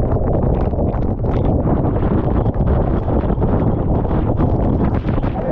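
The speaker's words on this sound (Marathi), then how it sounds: "या जागेवरील प्रचंड वारा आणि आकाशातून पडणारा धोधो पाऊस" Strong wind buffets the microphone with heavy rain at Lingya Ghat waterfall, a loud, dense, continuous roar with no voices.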